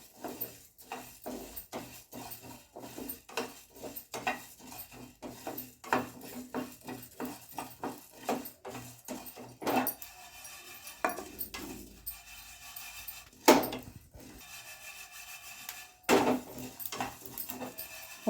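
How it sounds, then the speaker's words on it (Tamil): Coriander seeds dry-roasting in a pan over medium heat, a close, steady patter of small crackles and scraping rattles, busier at first, then more sparse with a few louder clinks; no one speaks. "போதும், சடன்னு பொரியுது,"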